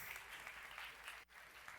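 Audience applause fills the room at a conference on heritage and memory, a dense steady clapping from a crowd with a brief dip near the end.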